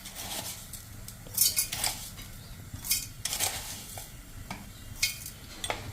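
A metal tablespoon scoops sugar from a container, with light clinks and scrapes of cutlery against a dish, repeated several times at close range, with no talk.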